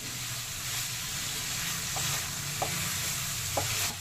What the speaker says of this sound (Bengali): এবার আলু আর মশলার সাথে ডালটা বেশ ভালোভাবে মিশিয়ে দেব।